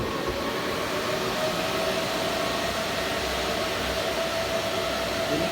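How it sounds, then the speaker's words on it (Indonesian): A jet engine test rig with high-RPM 1000 rpm fans running, giving a loud, steady broadband roar with a faint constant whine, unbroken from start to end with no voices. "ini kipas yang 1000 rpm udah nyala, suaranya tambah kencang kayak jet nih teman-teman ya."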